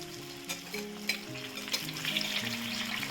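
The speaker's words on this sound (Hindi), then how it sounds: "तो इसी तरह से हम गरम तेल में दूसरी स्वीट कॉर्न भी डाल देंगे।" Sweet corn kernels frying in hot oil for crispy corn, a steady dense sizzle and crackle with occasional stirring clatter, close and continuous with no talk.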